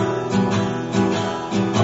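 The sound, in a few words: guitar strummed in swing time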